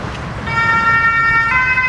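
Ambulance siren near a hospital in Pau, France, entering with steady wailing tones about halfway through and holding loud and close over a low traffic rumble, with no voices present.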